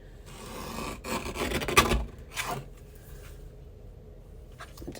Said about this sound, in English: I'm going to get my trimmer and trim that off